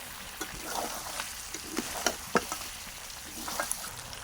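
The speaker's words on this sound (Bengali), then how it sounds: "ভালোভাবে নেড়ে চেড়ে একটু কষিয়ে নেব" Beef fries in a pan while being stirred, a faint steady sizzle broken by light scraping knocks and clicks at an uneven rhythm.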